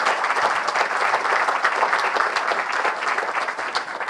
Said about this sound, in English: So let's have a round of applause for